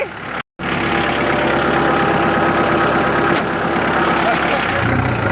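A walking tractor engine runs steadily while plowing a rice field in high gear, a close, loud and continuous mechanical drone with a brief dropout near the start.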